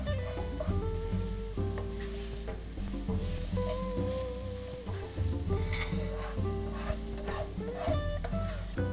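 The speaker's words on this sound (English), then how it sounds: "actually this is a saute, for about 1 minute, keeping it stirred all the time until the onion just starts to soften" Onion sautés in a pan while being stirred constantly, a soft continuous sizzle with light stirring scrapes, heard under a louder tonal musical background.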